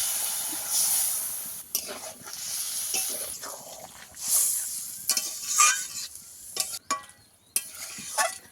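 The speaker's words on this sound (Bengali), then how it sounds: "এখানে আমি এক বাটি জল দিয়ে দিচ্ছি" A bowl of water poured into a sizzling tuna fish curry with eggplant sets off bursts of hissing steam and crackling, uneven and close, with stirring scrapes between the surges.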